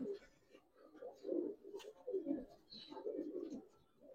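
Giribaz pigeons in a loft, including khaki and silver birds, give soft, low, rolling coos in a continuous murmur close by. The cooing sounds quiet and intimate.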